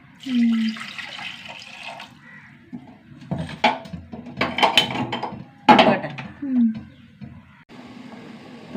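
Water poured into a cooking pot for melting jaggery in a home kitchen, with splashy bursts of pouring and metal pot clatter, close by, mixed with talking voices.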